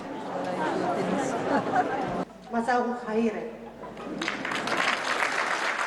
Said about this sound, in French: accueillie par des applaudissements chaleureux